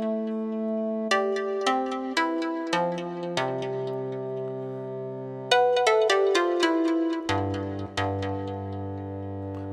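Reveal Sound Spire synthesizer presets play a sequence of bright, bell-like plucked notes with clear sharp attacks and ringing decays, stepping through changing pitches alone at moderate volume.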